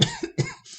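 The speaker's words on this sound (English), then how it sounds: "Of course I coughed at the end." Two sharp coughs close to the microphone, a short pause between them, followed by a quiet breath.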